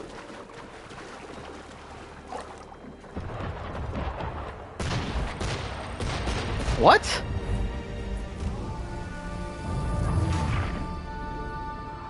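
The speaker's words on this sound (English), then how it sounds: "the cannon fire while I was climbing it" Cannon fire in Assassin's Creed III, heavy booms and crashing impacts across the stretch, one sharp whistling shot near the middle, with someone talking over the game sounds.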